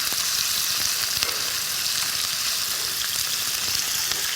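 Pork belly stir-fries in a pan with a loud, dense, continuous sizzle and crackle, heard close and alone with no voices over it.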